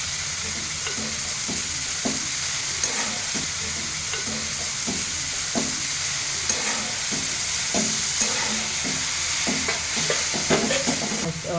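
Dill leaves curry frying in a pan and being stirred, a constant loud sizzle with repeated scraping strokes of a spatula at a steady pace, close up and without voices.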